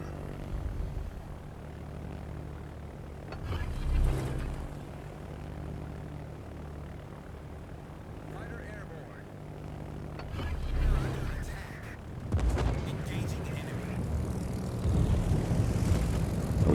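Squadrons of aircraft in World of Warships drone overhead with a steady propeller-engine roar, swelling in brief surges around explosive bursts and staying loud throughout.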